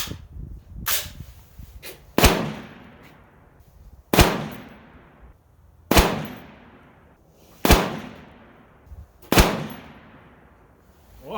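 Five sharp rifle shots from a PSA 6.5 Grendel with a new barrel ring out at a slow, even pace, each one loud and close with a decaying echo tail, and no talking between them.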